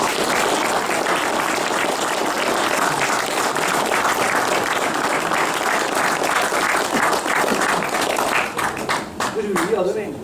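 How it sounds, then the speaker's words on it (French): Audience applauding at a centenary ceremony honouring Juan Ruiz, steady loud clapping filling the room for about eight seconds before thinning out as a voice begins to speak. "Et on peut l'applaudir."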